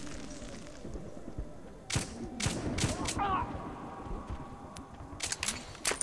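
Several sharp gunshots from a first-person shooter video game, Metro 2033, crack out in a short burst over low ambient noise, then a few more shots follow toward the end, with a voice speaking faintly underneath.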